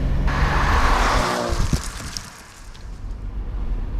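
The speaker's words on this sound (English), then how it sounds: "you've got that nice smooth straight six engine purring away in front of you" A BMW straight-six car engine runs at steady idle, a smooth low hum close by that eases off slightly midway, with some faint mechanical ticking.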